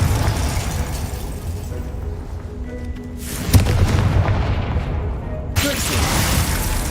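The Confringo explosion spell in Hogwarts Legacy goes off as a deep booming blast midway, laid over continuous loud game ambience and music, with a second sharper burst near the end.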